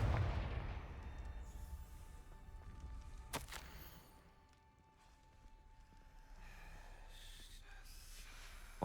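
Confringo blasting spell cast in Hogwarts Legacy, one sharp crackling blast near the middle, preceded by a low rumble and followed by a fading magical shimmer and faint tonal hum.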